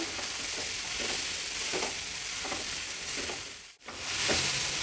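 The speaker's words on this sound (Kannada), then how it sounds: "ಕಾಬೂಲ್ ಕಡಲೆ ಹಾಕಿದ್ಮೇಲೆ ಸ್ವಲ್ಪ ಹುರಿಬೇಕು" Kabuli chickpeas sizzle and crackle in a hot oil tempering, a bright, dense frying hiss with faint periodic stirring scrapes, close up and steady apart from one brief dip, with no talking.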